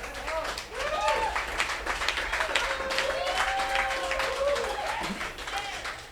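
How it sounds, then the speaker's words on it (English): An audience at a community talk about a Chicago food program bursts into applause, a continuous wash of clapping with cheers and voices mixed in, fading slightly toward the end. "y'all clapping"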